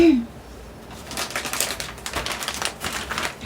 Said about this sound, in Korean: 그럼 일단은 맨 위에 있는 선물부터 한번 뜯어볼까요?